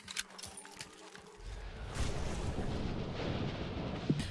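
Video game gunfire comes as a burst of rapid shots, then a sustained rumbling barrage with a sharp report near the end, moderately loud.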